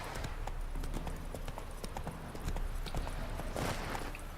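Roach the horse gallops in The Witcher 3, with quick, steady hoofbeats over a loud, dense rumble of outdoor game sound.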